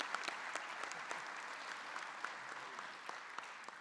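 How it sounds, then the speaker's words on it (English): An audience at a county executive inauguration gives a big round of applause, dense continuous clapping heard from a distance, fairly faint and with no voices. "let's give a big round of applause to Ruchi for that kind introduction"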